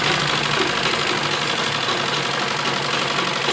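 A sewing machine runs steadily and loudly, stitching a double seam on a semi-Patiala salwar in a continuous even whir with no pauses and no talking.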